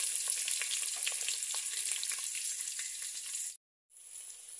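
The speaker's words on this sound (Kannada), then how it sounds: "ಈರುಳ್ಳಿ ಫ್ರೈ ಆಗಲಿ ಚೆನ್ನಾಗಿ." Onions frying for kushka give a steady, bright sizzle with crackles and pops in a pan. The sizzle runs for several seconds, cuts out briefly, then returns more softly.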